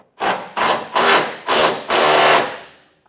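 A 19mm socket runs down a bed bolt on a 2024 Chevrolet Silverado truck while front camper tie-downs are fitted: five loud, close, rasping grinding strokes in a quick uneven rhythm, with no talk.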